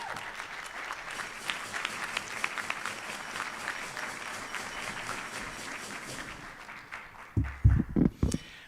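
A Rotary Club audience in Tucson applauds to welcome a speaker, sustained clapping from a roomful of people that thins out before a few louder nearby sounds at the end.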